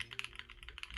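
Close typing on a mechanical keyboard with SOTC switches gives a quick, irregular run of dry, fairly loud clacks, with no voices over it.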